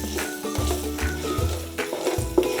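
Curry leaves crackling in a hot pan for a brinjal fry, a loud close sizzle with a few stirring strokes through the oil.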